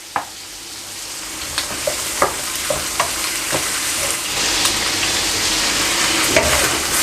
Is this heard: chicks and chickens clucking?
no